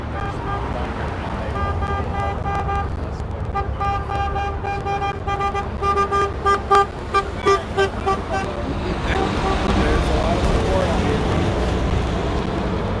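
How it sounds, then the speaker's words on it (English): Several short car horn toots sound in a busy street scene at a Trump rally in Carson City, Nevada, with traffic rumble and background voices throughout. "I hear some cars honking."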